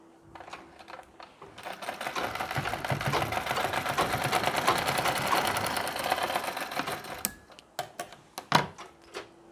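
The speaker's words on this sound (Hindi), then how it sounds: "सिलाई लगा के प्लीट को फिक्स कर लेना है। एक बड़ा टांका लेकर ही हमें यहाँ पे सिलाई लगानी है।" A sewing machine stitches a pleat on a Nauvari saree with a large stitch length, running in a steady close mechanical whir for several seconds, then stopping and giving way to a few scattered clicks and fabric handling sounds.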